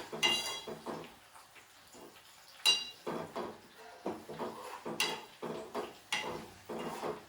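Curry leaves, fenugreek and hibiscus are stirred in a metal pan for homemade Ayurvedic hair oil, with repeated scraping and clinking strokes of a utensil against the pan in a steady, uneven rhythm, close and moderately quiet.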